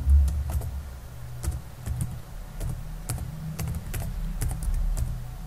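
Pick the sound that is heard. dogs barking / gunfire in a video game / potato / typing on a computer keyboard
typing on a computer keyboard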